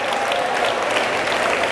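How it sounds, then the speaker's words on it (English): Audience round of applause at an early childhood conference keynote, a steady dense wash of many hands clapping together, loud and sustained without pauses. "give yourself a round of applause for just even trying it"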